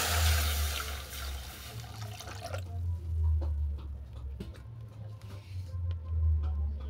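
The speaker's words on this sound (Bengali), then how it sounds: "এরপর কোনোর মধ্যে দিয়ে দিলাম জল," Water pours into a cooking pot for boiling vermicelli for chicken semai chowmein, a steady close rush for about two and a half seconds that then settles into a quieter trickle over a low kitchen hum.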